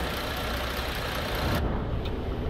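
Simulated coach engine from Fernbus Simulator, driving a Polski Bus route from Berlin to Frankfurt airport in winter conditions, gives a steady, dense mid-to-low rumble that holds constant throughout with broad hiss on top.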